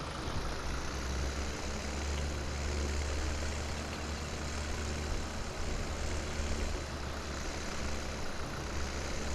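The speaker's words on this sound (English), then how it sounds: "I just love the sound of these old tractors." Old tractor engines in Farming Simulator 17 run at a steady, loud, low idle with a constant rumbling drone and no voices.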